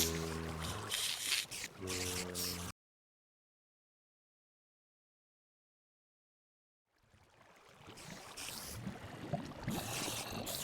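A boat is set onto water in Minecraft: a broad, washing splash of water noise swells in after a stretch of total silence, preceded by busy in-game sounds, with no talking.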